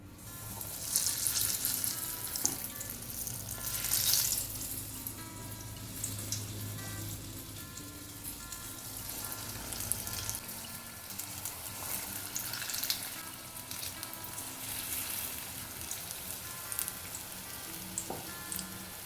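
Street-style chili bajji sizzles steadily in hot oil in a pan, a dense continuous crackle and hiss with a few louder spatters near the start.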